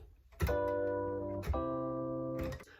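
Three sustained harmonic chords played one after another, the last two forming a dominant-to-tonic resolution, each struck clearly with a bright attack and held.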